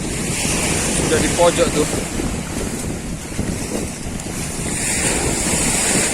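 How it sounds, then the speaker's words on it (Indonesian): Waves break on a rocky, raised coastal shore with a steady roar of surf, mixed with wind buffeting the microphone; a voice speaks briefly near the start. "Ombak pecahnya di bawah sini."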